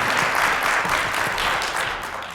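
Applause from an audience at an alumni association forum and lecture event, a dense, steady wash of many hands clapping that stays loud throughout before tapering slightly at the end.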